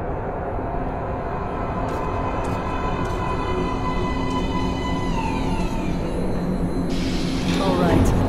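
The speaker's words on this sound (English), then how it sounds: "Train coming in." Metro train arriving at an underground platform in Metro Last Light, a loud continuous rumble and rolling roar with metallic squeals and a rising screech as it pulls in, filling the whole stretch.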